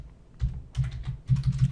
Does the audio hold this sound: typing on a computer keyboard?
yes